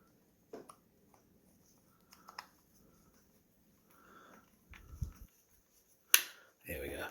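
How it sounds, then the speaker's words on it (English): A plastic part of a Hosim X08 RC car snaps into place with a few small, close clicks between quiet handling noises, ending in one sharp click and some rustling. "That clicked into place."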